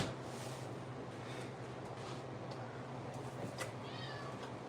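A cat meowing in a kitchen, a faint call or two near the end over low room noise, with no talk.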